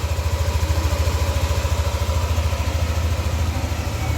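Close, steady idle of a Yamaha NMAX version 2 scooter engine, an even low putter with a slight rhythmic clatter, continuous and alone, the engine having an unusual noise.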